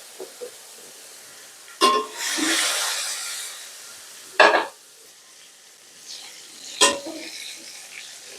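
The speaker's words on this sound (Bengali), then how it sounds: "এভাবে করে তেলে ভেজে নিব, এক পাশ হলে আর এক পাশে উল্টিয়ে দিব" Cauliflower fries in hot oil for a mashed bhorta, a soft steady sizzle broken by three or four sharp bursts of crackling as pieces are stirred or turned in the pan.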